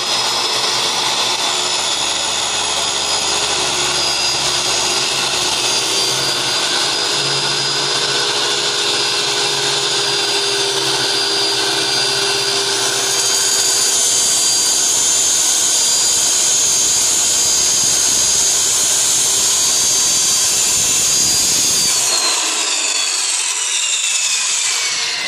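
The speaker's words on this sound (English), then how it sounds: "make sure you put your clamps facing the correct way and we're going to go ahead and cut it." Power saw cutting through a wood panel of a Nintendo arcade cabinet, a loud sustained grinding, rasping cut with a rising whine, ending abruptly as the blade finishes and the tool spins down.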